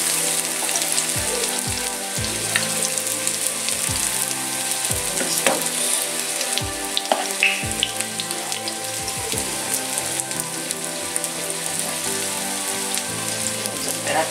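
Chilaquilas fry in hot oil with a steady, dense sizzle and crackle, a continuous bright hiss broken by small pops and occasional low clunks, going on without pause and with no voices.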